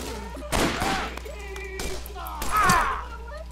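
Gunfire in the Borderlands video game, a few loud broadband bursts around a second and a half apart over a steady game backdrop, mixed with in-game chatter.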